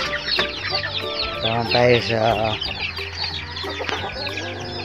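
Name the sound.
week-old Black Australorp chicks clucking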